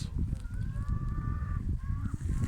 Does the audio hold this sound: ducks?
yes